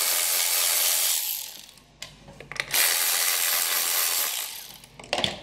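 Power tool or driver working on screws while swapping an ignition coil, two bursts of whirring with a pause between and a few clicks at the end.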